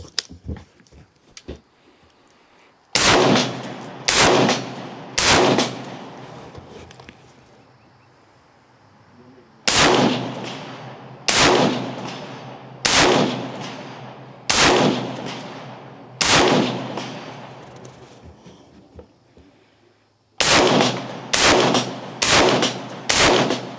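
Bravo Company AR-15 rifle, after 10,000 rounds without cleaning, fires ball ammo in bursts of loud, sharp shots, two to four at a time with short pauses and a final rapid string, under a faint background hiss.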